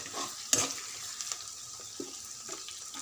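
Chopped onions and curry leaves fry in a pan for drumstick pulusu, a soft, even sizzle with scattered spoon taps and scrapes against the pan, close by and with no talking.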